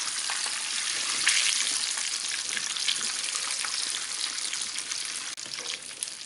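Tatar meat pastries (peremyachi) fry in boiling oil, giving a dense, loud, bubbling crackle that runs continuously close up, with a brief dip near the end and no voices.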